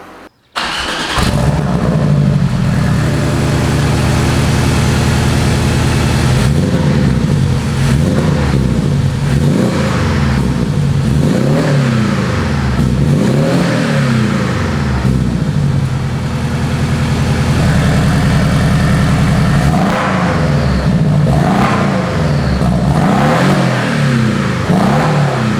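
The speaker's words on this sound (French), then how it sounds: "Vous avez entendu la sonorité de ce véhicule, c'est un flat 4." Porsche Cayman 718 Stage 2 flat-four with full exhaust and engine remap, no particulate filter or catalyst, starts on a dyno then revs hard in repeated rising and falling sweeps, loud and close for the whole stretch.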